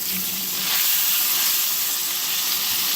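T-bone steak sizzling in a hot pan, a loud, continuous frying hiss that holds steady and close throughout.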